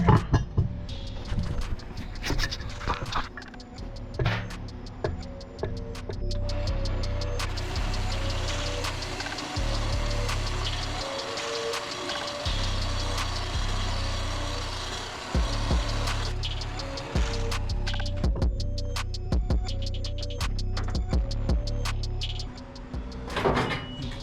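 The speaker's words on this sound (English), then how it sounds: "We'll take some off on the belt sander." Belt sander grinding a cab part for a 1949 Jeep Willys pickup in a workshop, a loud steady motor drone with short pauses and scraping contact, plus clunks and knocks of handling throughout.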